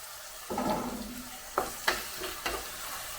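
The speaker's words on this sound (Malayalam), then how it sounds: "ഇനി സവാള ഒന്ന് വഴന്ന് വരണം" Onions sautéing in a pan, a soft continuous sizzle punctuated by a few short stirring or scraping bursts, fairly quiet and close.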